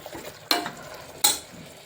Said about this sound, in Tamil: கொஞ்சம் நேரம் அப்படியே வதங்கட்டும்